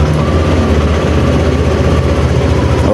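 A Yamaha scooter engine runs after an ECU repair, making a loud, steady, low mechanical drone without a break. No voices are present.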